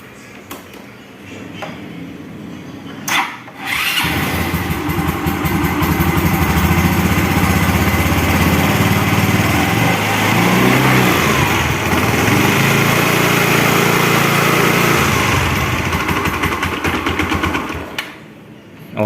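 A Yamaha Xeon scooter engine, just fitted with a new CVT bearing, starts with a brief crank and then idles steadily and loudly up close with a buzzing hum before shutting off near the end.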